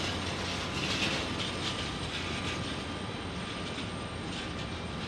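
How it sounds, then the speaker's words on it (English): An Airbus A321neo roars at Phoenix Sky Harbor Airport, a steady, broad engine rumble held evenly throughout, moderately distant and unbroken by speech. "We check out this A321neo"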